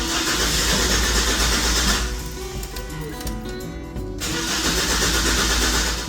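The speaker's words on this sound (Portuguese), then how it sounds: "Vamos tentar dar uma partida nesse carro e ver o que acontece." A Toyota Corolla fresh from an oil change, fluid swap and new battery, cranks and fires up nearby, a rough mechanical engine start with a steady rumble, a brief dip, then the engine running on.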